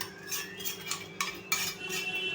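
Corn poha chivda being tossed with a spiced oil tempering for Diwali snacks, heard as a run of close scraping and clinking of a spoon against a metal vessel with soft rustling between the strokes, no voices.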